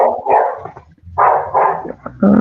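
A dog barks in several loud, close bursts with short pauses between them, including one quick yip, indoors during an online class session.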